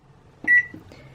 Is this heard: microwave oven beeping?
yes